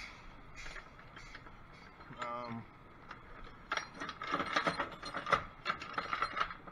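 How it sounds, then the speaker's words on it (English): A ratchet strap on a flatbed trailer load is loosened, giving a quick burst of ratcheting clicks followed by clanking and rattling as the strap and hardware come free, with quiet outdoor background. "I'll go back on the other side and loosen this one up over there"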